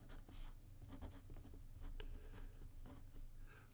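Lamy ABC fountain pen nib scratching and tapping across paper in quick, uneven strokes with brief pauses, soft and close, no talking.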